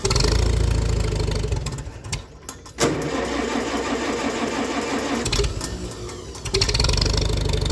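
A small B model farm tractor engine runs close and loud, a steady low mechanical chug with a brief dip and gap partway, then returning to its even idle rhythm.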